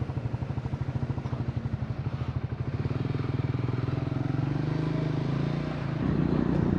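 A motorcycle engine idles with a loud, steady pulsing putter close by, then revs up and pulls away as the throttle rises near the end; no talking over it.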